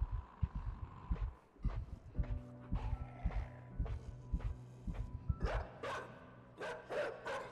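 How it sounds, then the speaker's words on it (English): A dog barks several times in the video game Inside, short sharp barks repeating irregularly over a low droning game soundtrack with tense ambient tones. "They had a dog back there."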